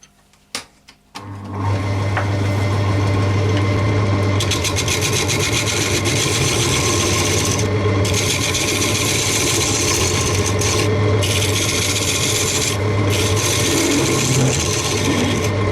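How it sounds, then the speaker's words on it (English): Wenge platter blank spinning on a wood lathe as a mortise is cut into it, giving a steady loud whirring hum with a scraping, rasping tool sound that carries on without a break after a short quiet start. "I've got the mortise basically cut."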